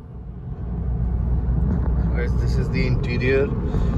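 A green-wrapped, exterior-modified Volkswagen Polo GTI on a Sunday drive in Kolkata, its engine holding a steady low rumble throughout, with people talking over the running car.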